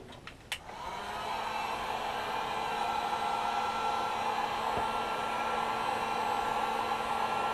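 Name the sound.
heat gun or hair dryer heating a hat crown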